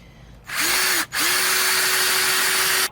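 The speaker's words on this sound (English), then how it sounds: "So we're just going to go ahead and drill." A power drill bores holes in wood through a jig: two loud whining bursts close by, a short spin-up, a brief pause, then a longer steady run of about two seconds before stopping, with no talking.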